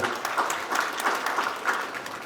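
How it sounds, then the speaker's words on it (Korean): A seated audience at a formal signing ceremony for an education development zone claps steadily for a couple of seconds, moderately loud with no talking. "박수 부탁드립니다"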